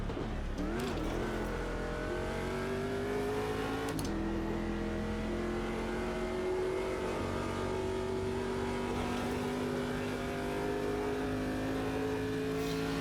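A USAC Stadium Super Truck engine at Long Beach in Automobilista 2, a sustained, steadily rising engine tone with a sharp gear shift early on, heard close and continuous.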